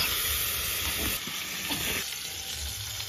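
Tomatoes land in a hot pan with ginger and green chilli, giving a close, steady sizzle and frying hiss with a few soft stirring sounds underneath.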